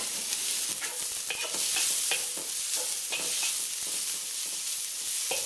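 Seasoned shrimp frying in hot oil with Scotch bonnet peppers for shrimp fried rice, giving a loud, steady sizzle with repeated scraping stirs of a utensil against the pan throughout, up close and without talk.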